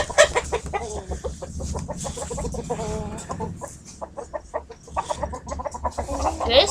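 Chickens and cockerels kept in cages cluck steadily in a dense, close chorus of short calls, with a few louder squawks standing out and a low background hum underneath.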